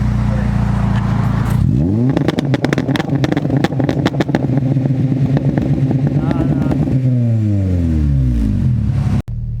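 A widebody Acura RSX revved hard at full throttle, its engine pitch sweeping up then holding a loud, buzzing high-rev drone with crackles before dropping away, close to the microphone with voices speaking over it.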